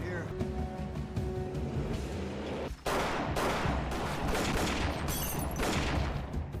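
Dense gunfire from a Prison Break escape scene, a sustained barrage of overlapping shots with engine noise beneath, all under someone talking over the scene.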